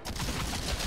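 Rapid gunfire from a weapon in the shooter game Outriders, a dense loud burst of overlapping shots lasting under a second with no pauses.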